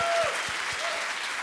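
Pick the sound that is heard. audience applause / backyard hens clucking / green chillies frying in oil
audience applause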